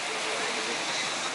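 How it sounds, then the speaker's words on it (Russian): Steady broadband rush of sea water, like waves washing continuously onto a nearby beach in Alanya, Turkey, in the evening, with no distinct breaks. "И потрясающий звук моря."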